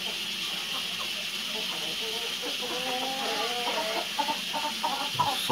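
An agitated white hen nesting on eggs in a box gives soft, repeated clucks under a steady hiss, growing a little more insistent toward the end.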